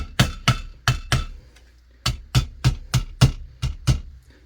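Metal rings under a rapid series of hammer strikes on a Husqvarna 55 chainsaw muffler, about a dozen close, sharp blows in two quick bursts separated by a short pause.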